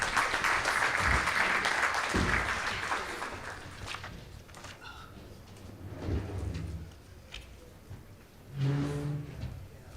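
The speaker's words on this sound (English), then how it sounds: "let's give our panel a round of applause" An audience at a Native Edge Institute event in Honolulu applauds a panel, the clapping loud at first and then fading into shuffling, footsteps and background noise.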